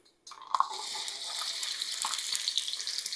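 Onions drop into hot oil in a wok and a steady, hissing sizzle starts abruptly, continuing loud and close with faint crackles throughout.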